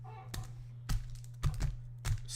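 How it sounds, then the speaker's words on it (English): Trading card packs are shuffled by hand in quick soft bursts, about four brisk rustling flicks spaced roughly half a second apart, close and fairly quiet over a steady low electrical hum. "Ooh, shuffling the packs. Shuffle, shuffle, shuffle."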